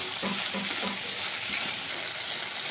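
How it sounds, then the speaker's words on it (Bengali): Okra sizzles steadily in a hot pan with salt and turmeric, a continuous close crackling hiss with no pauses. "এবার ভেন্ডিটাকে ভেজে নেব।"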